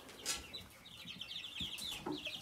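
Chickens of a large dual-purpose egg-laying breed, lighter-colored roosters among them, clucking softly in a series of quick murmuring notes with a few sharper calls, faint and somewhat distant over a rustling background.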